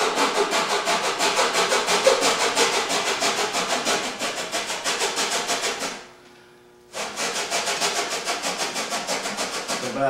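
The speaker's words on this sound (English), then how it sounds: "You're just going to simply take a hacksaw blade, cut it, get it as straight as you can," Hacksaw blade cutting with steady back-and-forth rasping strokes at close range, pausing for about a second near the six-second mark before the regular sawing rhythm resumes.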